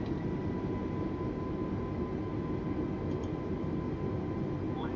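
An Airbus A320neo taxiing to the runway in Microsoft Flight Simulator 2020, a steady low engine rumble and hum holding evenly throughout, with a faint chime near the end.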